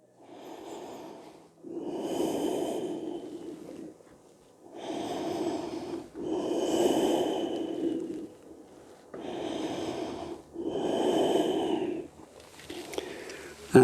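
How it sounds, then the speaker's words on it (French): During a yoga session, slow nasal breathing comes in six rhythmic, close-up breaths, each a rushing inhale or exhale separated by brief pauses. "Toujours une respiration par le nez."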